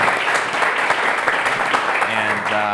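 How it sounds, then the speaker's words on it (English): An audience at a talk-style discussion event applauds for a guest. Dense, steady clapping fills the whole short stretch, and a voice starts speaking over it toward the end. "Round of applause for him."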